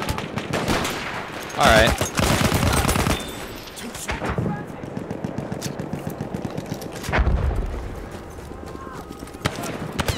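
Rapid bursts of gunfire from Battlefield 1 weapons crackle through a busy battlefield mix. Loud clusters of shots are scattered across the stretch, and a voice speaks briefly.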